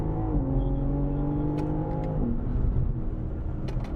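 A BMW M car on track at Sonoma Raceway, its engine note holding steady and strong, then dropping in pitch before building again under full throttle, loud and close throughout.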